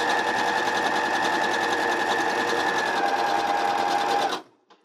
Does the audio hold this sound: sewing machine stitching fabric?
yes